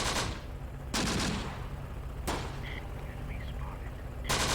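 Tank cannon fire in Close Combat: The Bloody First, a WWII armored battle at Sbiba Ridge: three sharp, loud blasts spaced a second or more apart, each with a ringing decay over continuous battlefield rumble.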